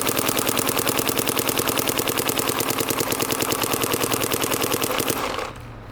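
A Planet Eclipse LV2 paintball marker fires a long rapid-fire burst through a Planet Eclipse S63 barrel, loud evenly spaced pops in a fast machine-gun rhythm that stop abruptly near the end.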